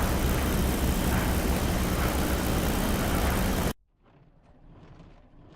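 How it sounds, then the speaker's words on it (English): A Spitfire fighter's piston engine in the DCS flight simulator roars as a loud, steady broadband drone, then cuts off abruptly, leaving only a faint low rumble. "Do you want me to talk through the startup of a Spitfire pilot?"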